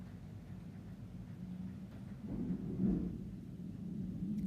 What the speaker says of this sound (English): It is thundering and lightning.